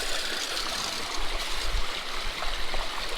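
Water rushes steadily through a gold sluice box on the Kern River, a continuous close, bright splashing flow with no other sounds.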